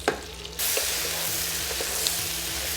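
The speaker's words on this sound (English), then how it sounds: "Straight in with the onions. We're just going to saute those for a few minutes" Chopped onions hit a hot pan and sizzle steadily, a dense close frying hiss that starts abruptly and holds for the rest of the moment, with no voices over it.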